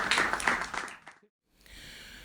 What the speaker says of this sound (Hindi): सच में इनके लिए तालियां होनी चाहिए